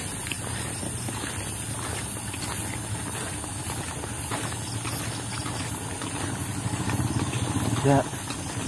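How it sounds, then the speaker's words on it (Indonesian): A motorbike engine idles steadily and close by, a low even drone held throughout, with a brief louder knock near the end. "Ya, motor hidup dulu. Motor hidup."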